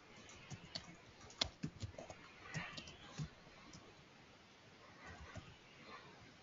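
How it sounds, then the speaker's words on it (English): Keys on a computer keyboard are tapped in short, faint bursts of irregular clicks while an email address is typed, with quiet pauses between the runs of keystrokes. "Let me go ahead and type in my email address."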